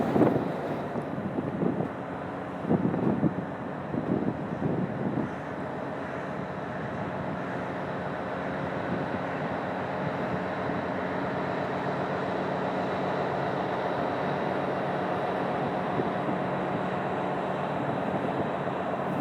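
Wind rushing across the deck of a ferry early in the morning, a steady low rumble of the engine under gusty microphone buffeting, with a few louder knocks at the start.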